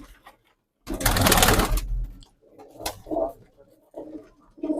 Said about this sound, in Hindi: जो आपके अबाबिल दिखाए थे, वो उस्ताद के अबाबिल कबूतर हैं